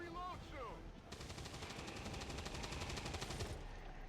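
Video game gunfire, a sustained fast burst of automatic shots cracking in a rapid regular rhythm for a few seconds, loud and close after a short electronic chirp.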